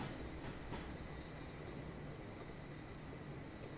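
Steady broadband rail rumble from a train in the Train Simulator 2015 game on the Portsmouth Direct Line, a continuous rolling drone with faint wheel ticks, moderately distant and even in level, no talk.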